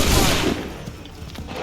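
A musket volley fires in the Assassin's Creed 3 Remastered video game, sounding as a loud, dense crackling burst of many shots at once that rolls away into echoing rumble. A voice can be heard faintly.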